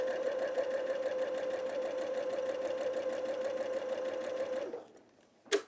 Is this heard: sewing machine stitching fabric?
yes